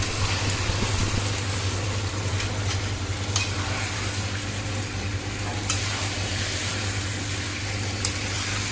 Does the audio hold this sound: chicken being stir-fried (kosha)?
yes